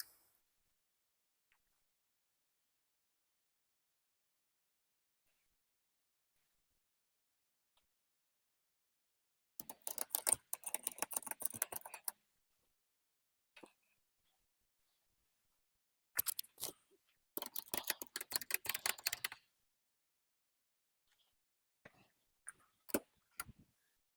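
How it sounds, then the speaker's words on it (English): Ratchet straps are cranked tight on a car carrier, giving two dense bursts of rapid clicking with a quieter pause between them, then a few short isolated clicks near the end against silence. "Pretty sure everybody knows how to use a ratchet strap, so let's do this quickly."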